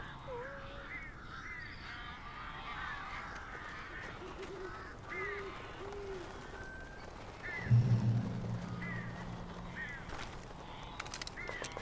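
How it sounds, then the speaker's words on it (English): Strange, unsettling birds in Alan Wake Remastered cry out in a series of harsh, crow-like caws over a dark ambient game soundscape, with a heavier low thud rising midway. "These birds are weird."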